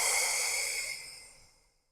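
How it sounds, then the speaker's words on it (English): A single long, breathy exhale during a Pilates mat breathing exercise, close and soft, fading out gradually over about a second and a half with no talking over it. "and breathing out."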